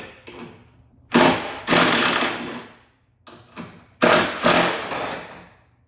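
Impact wrench removing the 13mm core support bolts on a Fiat 500, heard as two loud bursts of rapid hammering chatter, each starting with a sharp hit, separated by a short pause.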